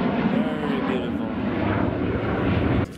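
A custom-built RV-4 aerobatic kit plane's engine drones steadily and fairly loud at an aviation festival, a continuous throaty hum that cuts off sharply at the end.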